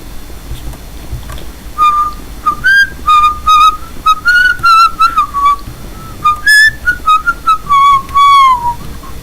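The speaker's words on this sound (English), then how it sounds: "Sorry. Shouldn't whistle. Shouldn't whistle." A person whistles a clear, loud wandering tune in short phrases and held notes, close by, with brief gaps between bursts and no talking.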